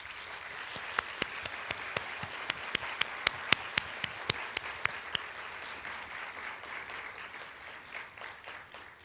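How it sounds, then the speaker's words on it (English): Audience applause at a December 2014 nursing pinning ceremony for graduates' family and friends, a broad steady wash of clapping with a few sharp individual claps standing out early, then thinning slightly toward the end. "Would you please give them a round of applause?"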